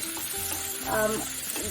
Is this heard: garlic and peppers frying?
yes